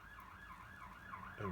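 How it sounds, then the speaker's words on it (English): An ambulance siren wails outside in a steady rising-and-falling cycle, moderately loud and slightly distant, with a low background rumble and no talking. "It's an ambulance"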